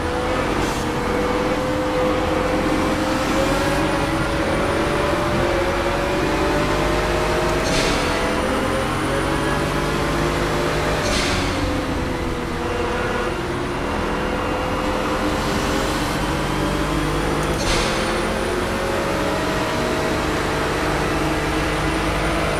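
A Pagani Huayra BC hypercar racing at Road America in the video game Project CARS, its engine droning steadily with rising and falling tones and periodic gear-shift surges, loud and continuous.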